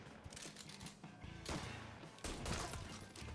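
Rapid gunfire bursts and crackling shots in the Mafia III video game, several volleys in quick succession at moderate loudness.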